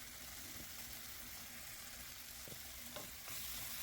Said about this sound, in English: I let the season saute.